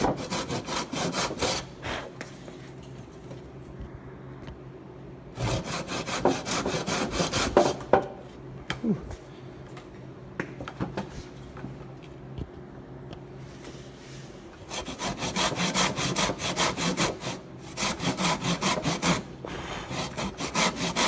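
A hand saw cuts through wood in long rhythmic back-and-forth strokes, loud and close, in three sustained bouts with quieter pauses between them.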